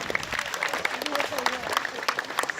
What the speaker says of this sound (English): Certainly I'm pleased to see you applaud for his whistling.